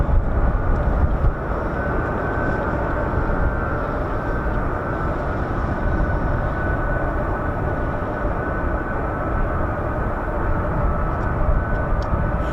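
A C-17 aircraft roars at RAF Lakenheath, a loud, steady broadband engine rumble that holds level and unbroken for the whole stretch.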